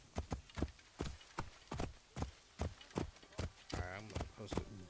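Horse hooves clip-clop steadily in an open world video game, a regular rhythm of close, distinct hoof strikes, with a louder burst of game sound near the end.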